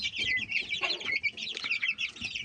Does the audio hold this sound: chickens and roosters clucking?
yes